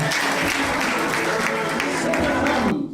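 A church congregation breaks into dense, sustained applause and cheering in praise, loud and close, mixed with voices, before cutting off abruptly at the end.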